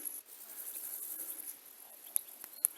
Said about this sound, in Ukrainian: Свірчать якісь свірчки, коники, стрибунці різні.